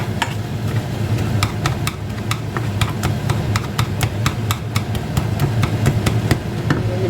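Cooked red spinach being mashed with milk, a run of regular sharp clacks and taps from the masher hitting the pot, steady and close, with a low simmering rumble underneath.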